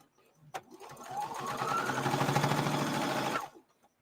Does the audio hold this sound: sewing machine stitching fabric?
yes